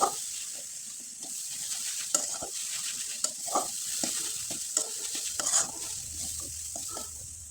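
Coconut filling for a sweet flour pitha stirred and fried in a pan: a continuous bright sizzle with repeated scraping strokes of the spoon, close and steady, no voices.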